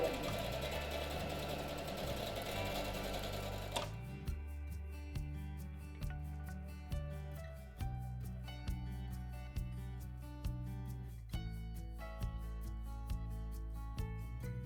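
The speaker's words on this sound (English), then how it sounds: "I'm just going to keep on sewing." A sewing machine stitches a quilt block for a quilted Santa mini project, a close, steady mechanical chatter with a regular needle rhythm and brief pauses between runs, after a louder burst of noise at the start.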